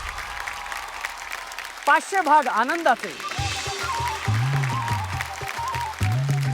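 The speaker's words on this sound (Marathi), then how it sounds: "एकदा जोरदार टाळ्या" Studio audience applause on a Marathi women's TV show celebrating its 500th episode, a broad clapping wash running under a presenter's loud, excited speech and brief musical tones.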